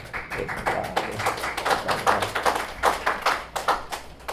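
A church congregation at Sunday worship claps in welcome, a steady run of many hands tapping together at close range with no voices over it.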